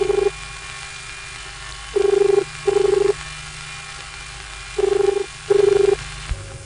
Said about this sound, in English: here's an example of a transistorized ringing tone